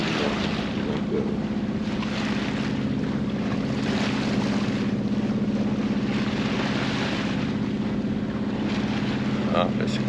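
A boat's engine drones steadily and loudly throughout, motoring into a headwind off Sardinia near Arbatax, with a constant low hum under wind and rushing water.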